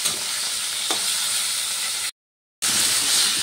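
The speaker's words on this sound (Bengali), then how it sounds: "এবার আমি মাছের মাথাগুলো ভালো করে উল্টে পাল্টে ভেজে নেব" Fish heads fry in hot oil with a loud, steady sizzle and hiss, close up, briefly cut off by a short silent gap before the sizzling resumes.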